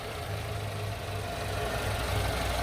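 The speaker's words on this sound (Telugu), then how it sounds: "సో ఇంజిన్ సౌండ్ అయితే చూడొచ్చండి." A 2023 MG Astor petrol car engine idles steadily with a low, even rumble and a faint mechanical knock, holding constant throughout with no voices.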